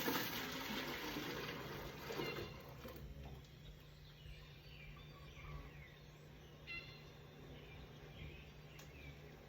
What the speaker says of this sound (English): Pouring our juice in there.